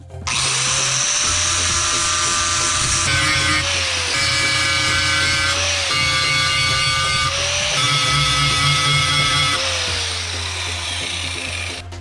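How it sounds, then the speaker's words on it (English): A power grinder whines loudly and steadily grinding metal rivets flush on a Yamaha Banshee engine plate for about twelve seconds, its pitch dipping briefly several times as it bites into the work. "I gotta grind down these 4 rivets flush with this plate"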